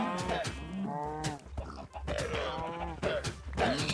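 Cows low repeatedly in Minecraft, a run of drawn-out moos and grunts overlapping one another close by, with no talking.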